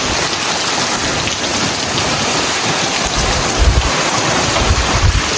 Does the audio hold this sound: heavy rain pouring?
yes